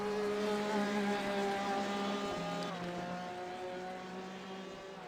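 Porsche and Ferrari endurance race cars lapping Imola at night in a racing game, their engines holding a steady high whine that shifts pitch as they change gear, close and continuous.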